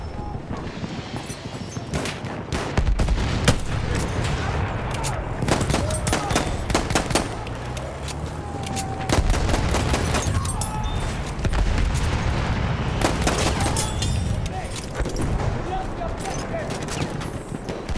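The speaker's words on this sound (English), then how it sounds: "Machine gun!" Sustained machine gun bursts in Battlefield 1, dense rapid fire with heavy booms layered over a loud battlefield din, continuing almost nonstop with brief lulls; a voice shouts in the background.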